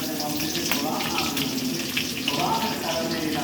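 Meat going into a hot pot in a home kitchen, giving a steady, close sizzling hiss that runs continuously throughout without any talk over it.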